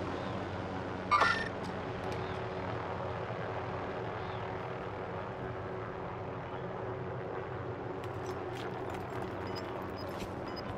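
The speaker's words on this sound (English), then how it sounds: "Helicopter. Enemy helo!" A steady enemy helicopter rotor drone hangs overhead throughout in Call of Duty Warzone, with a brief sharp burst early on and faint clicks later.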